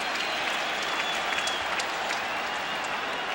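A big crowd at Shea Stadium in New York applauds steadily through a 2001 Mets–Braves baseball game, a dense wash of clapping that holds at an even level throughout.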